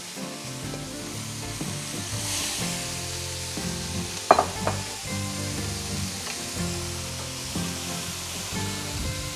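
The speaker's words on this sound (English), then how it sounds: "We're going to start sauteing our mirepoix here with all those veggies we cut up" Mirepoix vegetables sauté in a pan with a steady, close sizzle and faint stirring scrapes, plus one sharper clatter partway through.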